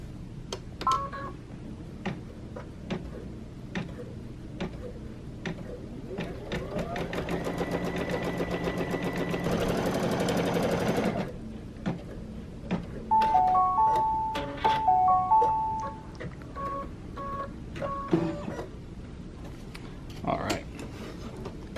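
An embroidery machine stitches quilting lines on an in-the-hoop coaster, a steady mechanical whir building to a dense buzzing run, with scattered clicks and electronic beeps around it.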